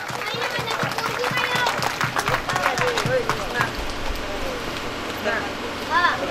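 A crowd at a village Dhamma ceremony applauds to honour a young woman named Nilima: a dense, steady patter of many hands, with voices carrying over it.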